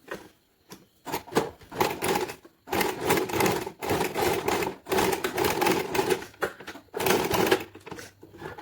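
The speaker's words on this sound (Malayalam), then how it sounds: "എന്നിട്ട് ഇതേപോലെ ഫോൾഡ് ചെയ്തിട്ട് സ്റ്റിച്ച് ചെയ്യാം." A sewing machine stitches a fabric hair band in short bursts of rapid mechanical clatter, with brief pauses between runs; it is close and fairly loud, with no talking.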